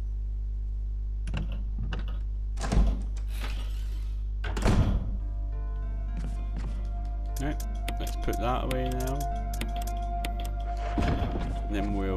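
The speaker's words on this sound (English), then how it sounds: "Typewriter, save your progress, yep." Typewriter keys clack on a typewriter used to save progress in Resident Evil Remake. Several separate thunks sound over a steady low hum, followed by a rising tonal effect and a voice speaking.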